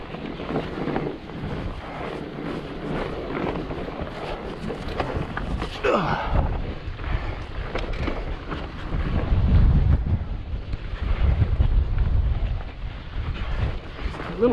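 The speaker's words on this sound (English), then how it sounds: "So windy." Strong winter wind in the desert canyon country near Devil's Canyon buffets the microphone throughout with constant rumbling gusts, swelling louder toward the middle, while a person speaks briefly.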